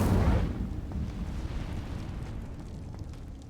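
A fiery Incendio spell burst in Hogwarts Legacy erupts with a loud whooshing blast at the start, then settles into a rumbling crackle that slowly fades away.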